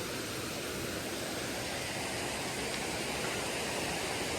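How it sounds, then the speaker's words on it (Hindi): Clear stream water rushes steadily beneath a living root bridge grown from tree roots in Meghalaya, a loud, continuous broadband flow with no break and no voices. "नीचे इतना प्यारा साफ सुथरा झरना, एक स्ट्रीम है असल में"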